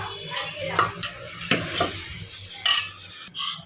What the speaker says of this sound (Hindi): अब देख सकते हो अभी हम सब सब्ज़ी को मिक्स करेंगे। मैं आपको मिक्स करके दिखाती हूँ।